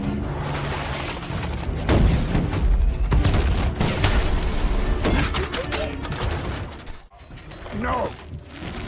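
Loud, dense bursts of blaster gunfire in an animated Transformers battle involving Ratchet, rattling mechanical clatter and booms layered together, with a brief voice near the end.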